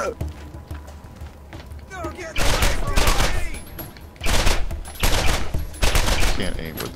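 Bursts of rapid game gunfire from Borderlands erupt in three loud volleys after a quieter opening, with a voice talking briefly during the lull before the shooting.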